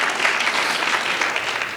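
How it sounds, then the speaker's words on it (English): A crowd at a civic youth event claps steadily for the advisors, a dense, continuous wash of applause filling the room. "let's give them a big round of applause for giving up their day"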